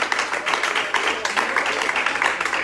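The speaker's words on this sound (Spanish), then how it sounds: "Hay un fuerte aplauso al Señor" A congregation gives the Lord a loud round of applause at a worship service, with rapid overlapping claps in a steady pulsing texture and voices calling out over them.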